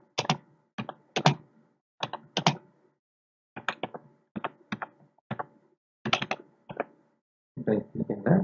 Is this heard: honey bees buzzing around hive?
no